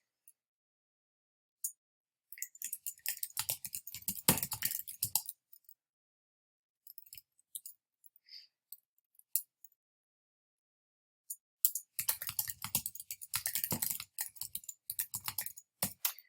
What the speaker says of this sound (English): I'm just going to type 1 question.